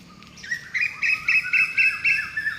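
An Asian koel calls repeatedly in a series of rising, whistled notes, fairly clear and close, with a quiet background and no talking.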